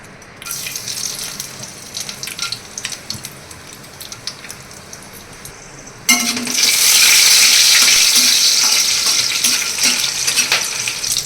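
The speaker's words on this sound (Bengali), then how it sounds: "আমার মশলাটা একটু ভাজা ভাজা হয়ে গেছে" Whole spices, namely cinnamon, cloves, cardamom and bay leaf, fry in oil with quiet scattered crackles and clinks, then a sudden loud, sustained sizzling hiss takes over about halfway through. Nobody speaks.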